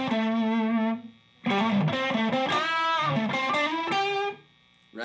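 Sloppy, heavily distorted electric guitar with unmuted strings ringing into one another, loud and alone, playing a blurred phrase in two bursts separated by short gaps.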